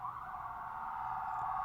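Sustained NYPD police siren wailing outside a window, a steady high tone holding for the whole stretch, moderately distant and muffled with faint low street rumble beneath, no voices.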